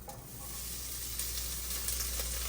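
Pancetta sizzles steadily in a hot pan with no oil, a dense, close crackling hiss with small pops, continuous for a couple of seconds and no voices.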